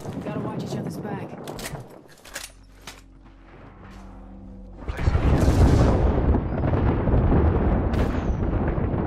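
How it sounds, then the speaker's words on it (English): Airstrike explosions in Apex Legends, a dense, sustained roar of booming blasts that swells loudly after a quieter stretch of game sounds and continues to the end. "Airstrike danger close."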